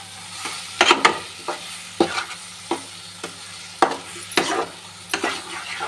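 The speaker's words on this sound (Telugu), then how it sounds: "ఒకసారి కలపాలి." A spoon stirs curry in a pan as homemade masala sizzles and fries underneath. The scrapes and knocks come in irregular strokes over a constant low sizzle.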